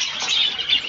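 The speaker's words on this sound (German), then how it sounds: "Maxi, ist das ein Vogel für dich hier, ja?" A budgerigar chirps indoors in a brief run of high, thin tweets that rise and fall, fairly close and alone without talk.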